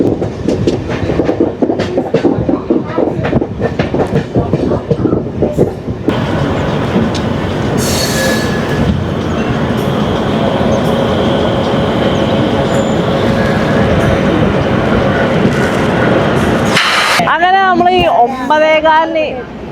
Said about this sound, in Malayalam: കണ്ണൂര് ഷൊർണൂര് മെമുവാണ് നമ്മൾ കയറിയ ട്രെയിൻ